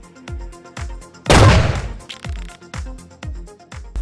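Shotgun blasts in the first-person shooter CrossFire, a 687 EELL Diamond Pigeon firing six-pellet shots: one loud burst dominates the middle, with a steady run of sharp, fainter shots ticking before and after it.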